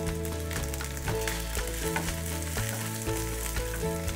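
Chopped onion frying in a pan for Bengali chilli chicken gives a continuous, fairly quiet sizzle, with steady tonal sounds running underneath and no voices.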